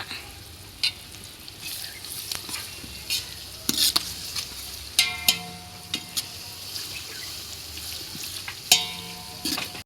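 Sliced onion and curry leaves fry in a pan for a spicy Vidarbha-style brinjal curry, a steady soft sizzle broken by sharp scrapes and clinks of a spoon stirring against the metal, close up.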